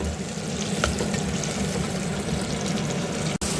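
Tomatoes dropped into a hot pan of oil with fenugreek, mustard seeds and fennel for a Tamil fish curry, a steady close sizzle and frying crackle throughout, no talking.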